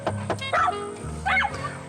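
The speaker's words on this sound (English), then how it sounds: "What are you barking at?" A dog barks in a few short, close bursts, with a person's voice in between the yips.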